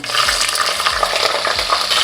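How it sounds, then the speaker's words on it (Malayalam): Mustard seeds and fenugreek spluttering and crackling in hot oil in a pan while toddy-shop style fish curry is made, a dense steady sizzle with sharp pops and a few low scraping stirs, close and fairly loud, no talking. "കടുക് പൊട്ടിക്കൊണ്ടിരിക്കുന്നുണ്ട്"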